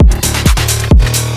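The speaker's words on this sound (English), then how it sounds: "Pluck bass." Plucked synth bass from a bass house track, sounding as short, deep, punchy bass notes with bright upper harmonics in a quick rhythmic pattern, loud and alone.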